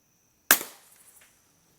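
A single shot from an integrally suppressed Ruger 10/22 rimfire rifle, a sharp muffled crack followed by a short fading tail, loud and close, alone against near silence.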